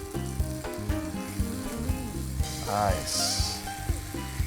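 Moroccan-spiced chicken thighs sear in a hot pan with a steady, crackling sizzle, broken by clinks and scraping of a utensil, while someone speaks a word over the cooking.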